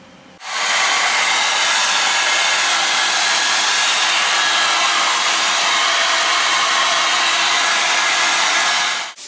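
A heat gun blasts hot air onto a dented Jeep Wrangler bumper, switching on abruptly and roaring as a loud, steady close hiss for about nine seconds before cutting off.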